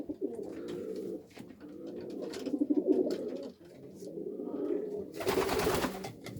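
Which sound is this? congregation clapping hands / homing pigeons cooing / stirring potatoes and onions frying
homing pigeons cooing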